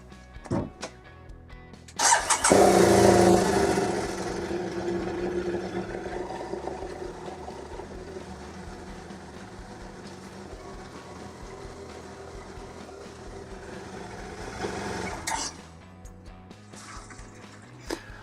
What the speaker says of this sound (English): So that was the bike running on the center stand through the gears.